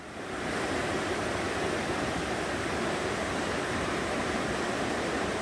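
A shallow, clear mountain valley stream runs over broad flat rocks in a mossy gorge, giving a steady, even rush of water that fills the whole stretch without break.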